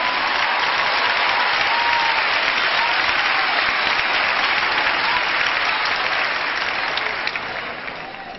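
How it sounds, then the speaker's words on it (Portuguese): Audience at a women's congress applauding in a large hall, a dense continuous wash of clapping held steady for several seconds, then easing slightly at the end. "Aplaudam e dê a ele glória."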